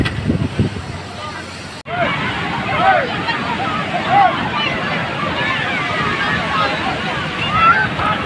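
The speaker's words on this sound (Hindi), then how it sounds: "ये देख सकते हैं समुद्र है" Sea waves wash onto the beach at Puri in a continuous broad roar with rising and falling surges, heavy wind buffeting the microphone and crowd murmur mixed in.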